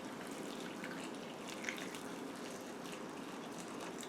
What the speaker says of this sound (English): I'm just going to pour the hot water on my onions.